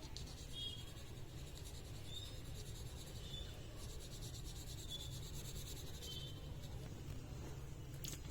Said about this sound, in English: now we have to start shading from lightest to the darkest